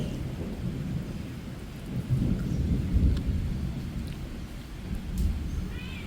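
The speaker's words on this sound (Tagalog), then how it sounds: "dahil umuulan" Steady rain patters over deep rolling thunder that swells and rumbles through the whole stretch, with no talking.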